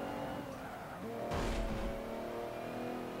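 A racing car engine in Forza Motorsport 7 hums steadily with a brief louder surge and squeal partway through, moderately loud with no voices.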